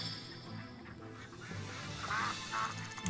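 Ducks quack in the video game Shenmue 3, a couple of short nasal calls rising over a soft, steady game ambience, faint and mid-distance, with no speech.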